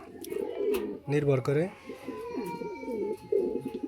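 Pigeons of the Ice Bar breed, kept as a pair at a breeder's loft, coo in low rolling, repeated phrases close by, under and between a man's speech.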